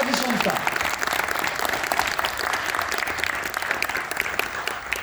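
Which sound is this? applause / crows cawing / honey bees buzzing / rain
applause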